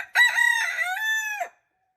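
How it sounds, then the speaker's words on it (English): A single close rooster crow rings out clearly, a drawn-out call of about a second and a half with rising then held notes, alone against silence, from a farm flock of chickens. "Well, the chickens are here waiting their turn."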